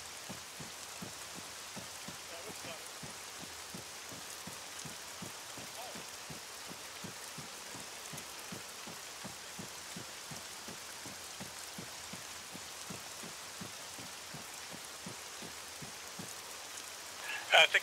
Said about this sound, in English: And now it's pouring rain.